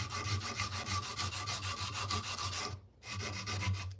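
Sandpaper rubbing across a wood surface in steady back-and-forth strokes, a continuous close scratchy rasp with a brief pause near the end before sanding resumes; no talking.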